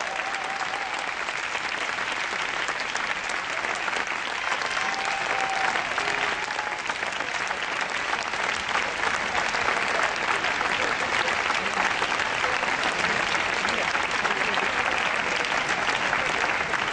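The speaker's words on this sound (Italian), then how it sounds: "Meravigliosi, ancora un applauso, veramente." An audience at a tango festival performance in Mantova gives long, sustained applause, a dense and even wall of clapping with faint scattered voices underneath.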